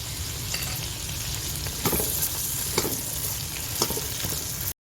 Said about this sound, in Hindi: इसको इसमें अच्छी तरह फ्राई कर लीजिए और साथ में ये नमक भी डाल दीजिए